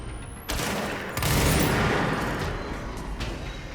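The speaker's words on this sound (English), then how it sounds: "I love this gun so much." Heavy gunfire from a gun in the game Control: a loud, dense burst of shots and booms starting half a second in and swelling into a sustained roar, close and without talk.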